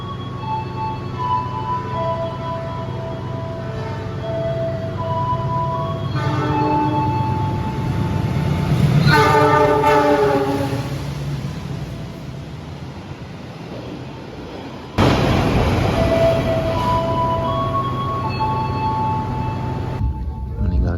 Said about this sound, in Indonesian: Ini dia kereta api Sembrani